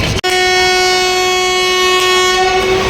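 A train horn sounds loud and steady for about three seconds, a sustained harmonic blast from a passenger train about to depart on a rail journey from Vadnagar to Ujjain, with faint rail rumble beneath.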